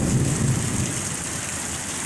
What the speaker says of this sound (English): This is a good storm.